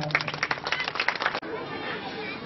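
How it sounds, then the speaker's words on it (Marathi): A crowd at a cultural competition event in Chandrapur claps loudly for a government minister, a brief burst of dense applause mixed with crowd chatter that cuts off abruptly into a softer murmuring background. "एकदा मंत्री महोदयांसाठी जोरदार टाळ्या."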